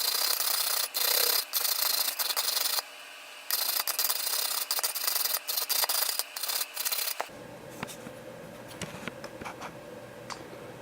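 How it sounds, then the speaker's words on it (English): A small wire brush scrubs gunk and old paint off the edges of bolts, giving repeated bursts of bright rasping strokes up close, then a quieter, lower scraping stretch toward the end. "just taking this little wire brush that I have and then just kind of going over the edge of it"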